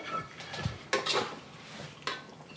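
Utensils scrape and clink against a pan while a dish of food with sesame oil is stirred and plated, a few short, quiet metallic knocks and scrapes with no talk.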